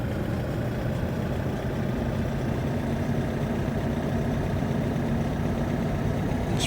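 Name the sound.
car engine from a Unity driving game while driving around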